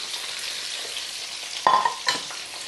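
Food fries in a pan with a soft, steady sizzle, and two sharp clinks of a utensil on the pan come near the end.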